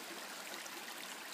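Mountain stream on the Okura River, a tributary of the Akigawa, rushing steadily with a dense, even hiss of flowing water and no voices.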